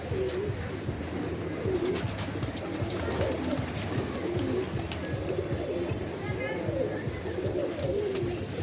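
A flock of pigeons coos steadily while being fed, many overlapping low calls at close range forming a continuous bubbling murmur throughout.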